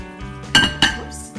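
Pasta being moved into a large, heavy serving bowl holding four portions, with two sharp clinks of a utensil against the dish amid softer scraping and handling sounds, close and fairly loud.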